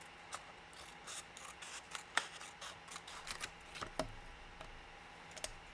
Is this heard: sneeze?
no